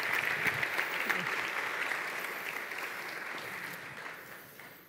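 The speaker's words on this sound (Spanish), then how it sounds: "No sé si te han aplaudido más que a mí" Audience applause at a Spanish book presentation for Leonardo Padura's novel, a steady wash of clapping that holds throughout and slowly fades toward the end, with a faint voice briefly under it.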